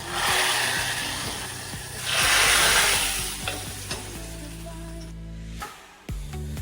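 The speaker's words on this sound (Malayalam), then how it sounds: "ഉള്ളി ചുവന്ന് വരുമ്പോൾ വറുത്തിടുക" Onions sizzle loudly in hot oil until browned while a utensil stirs and scrapes the pan, the hiss swelling and then easing off.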